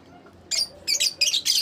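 Several bursts of bright chirping come from pet African lovebirds nearby, four or five quick clusters of tweets over a quiet background.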